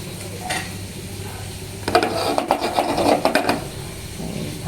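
Fried chicken in hot oil in a pan, made for chilli chicken, starts as a quiet hiss and then turns to a louder, uneven sizzle with scraping stirs and utensil knocks, and no one talks.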